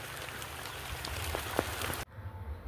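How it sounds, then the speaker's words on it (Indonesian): Steady rain falling outdoors near rural fields, a continuous close hiss of drops on surfaces with a few louder individual hits, cutting off abruptly near the end. "saya mau balik karena cuacanya hujan"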